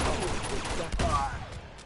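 Dense, continuous gunfire roars from a multiplayer shooter video game, a steady wall of rapid shots that stays loud throughout and fades only slightly at the end.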